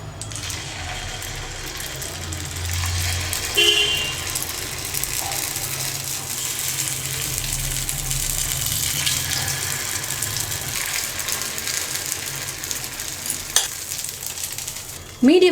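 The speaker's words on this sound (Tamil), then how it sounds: "இப்போ நான் குழி பணியாரம் ஊற்றிக்கிறேன்" Kuzhi paniyaram batter poured into hot oil in a paniyaram pan, giving a steady, close sizzle and crackle of frying throughout, with a few faint clinks along the way.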